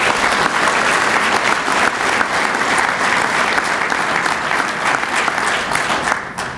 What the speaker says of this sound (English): If we could please give them a round of applause as well.